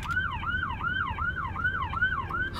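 An ambulance siren wails on the road in a steady rising-and-falling cycle that repeats about every half second, loud and close over low traffic rumble, with no talking.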